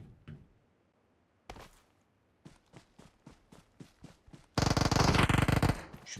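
Fortnite gunfire in a firefight: a few sharp separate shots after silence, then a string of evenly spaced cracks, ending in a loud dense rapid burst.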